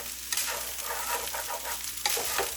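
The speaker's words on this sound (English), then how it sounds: "just going to town and just kind of stir frying this rice" Rice sizzles and crackles in a hot pan, with a spatula scraping and stirring in steady bursts, close and fairly loud.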